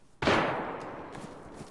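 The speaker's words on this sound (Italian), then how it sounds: "Sento spari ovunque un po'." A single loud gunshot in the video game DayZ, a sharp nearby crack with a long fading echoing tail and faint further pops behind it.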